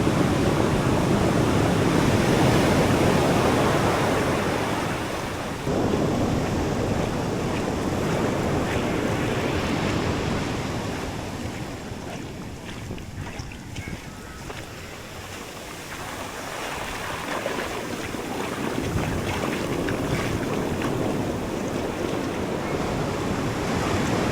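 Big sea waves surge in toward seaside houses in a continuous, loud roar of churning surf, with gusts of wind buffeting the microphone as the water rushes forward and ebbs slightly before swelling again.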